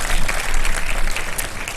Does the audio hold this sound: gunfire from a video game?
no